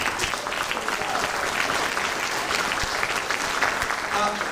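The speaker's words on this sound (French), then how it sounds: "Alors, on va applaudir notre guitariste Pierre-Marie." A concert audience at a vocal group's November festival in Levroux applauds the guitarist with sustained, dense clapping, while a voice speaks faintly underneath.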